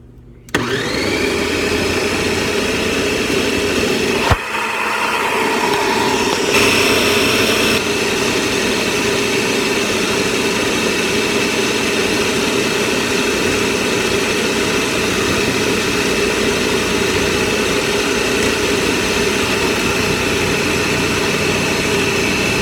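A Bullet Express food processor slices onion with a loud, steady motor whine and whirr. It starts abruptly, with a brief clunk a few seconds in, and then runs continuously at close range without talk.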